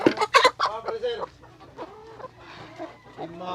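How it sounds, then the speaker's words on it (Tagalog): Chickens raised over sixteen weeks on a farm cluck and squawk nearby in quick bursts, loud at first and then settling into softer, scattered clucking. "ato ang mga manok"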